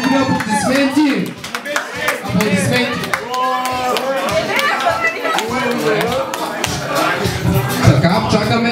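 Audience applause at a New Year's Eve party in a countryside estate, steady clapping lasting several seconds amid loud crowd chatter and voices.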